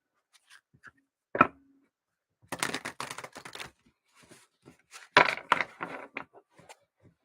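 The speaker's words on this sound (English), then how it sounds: "Even though it's hard to shuffle, very stiff deck." A stiff Rider-Waite tarot deck being shuffled, with sharp papery riffles and card snaps coming in short, uneven bursts and separated by quiet pauses, close up.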